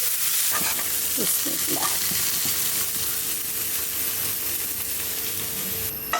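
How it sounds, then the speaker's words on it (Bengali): Fig (dumur) bhaji fries in a pan with a steady close sizzle, broken early on by a few scraping stirs, then an even hiss that carries through without any talk. "ভাজা ভাজা করে"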